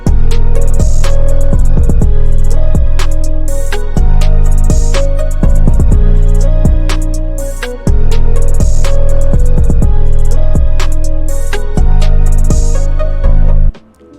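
A full hip-hop beat plays loud and steady with open hi-hats, a snare backbeat and a booming 808 bass under a looping melodic pattern, with a brief drop near eight seconds before it returns and then cuts off.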